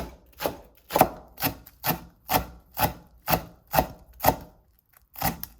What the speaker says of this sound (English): So just cut into small pieces like this.